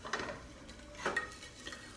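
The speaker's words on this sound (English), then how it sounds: "They go in, you can hear them sizzle." Crushed garlic cloves hit hot oil in a skillet, giving a soft, quiet sizzle with a few brief louder bursts and faint stirring clatter, no talk.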